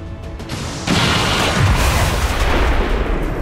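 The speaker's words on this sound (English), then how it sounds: "The vehicle explosion did so much damage to this guy, nearly killed him." A vehicle blows up in the video game XCOM 2: a sudden loud blast swells into a dense, sustained roar of rumbling debris and fire that fills the rest of the moment.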